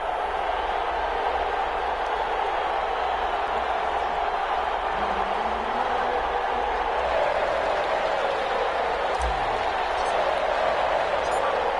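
Steady roar of a stadium crowd in a Madden NFL video game, Chicago Bears versus Las Vegas Raiders, a continuous dense wash of cheering noise at even loudness throughout.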